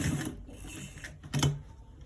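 A sewing machine stitching an inner front pocket whirs in short, close bursts, a steady mechanical run with a sharper surge near the end and no talk over it.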